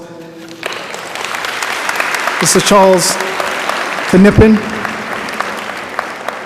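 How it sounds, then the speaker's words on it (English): An audience at a university honor society induction ceremony applauds steadily throughout, with a voice speaking briefly over the clapping. "let's thank one more time with a round of applause"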